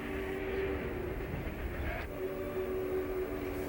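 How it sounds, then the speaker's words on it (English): A Union Pacific locomotive rumbles steadily as it pulls its train slowly down the main street of LaGrange, a continuous heavy drone with a sustained tonal hum and faint rail clatter, close and loud throughout. "What a sight as the big locomotive eases its train through town."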